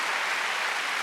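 Congregation clapping together during a Sunday worship service at a church, a dense, steady wash of applause filling the room throughout with no voices.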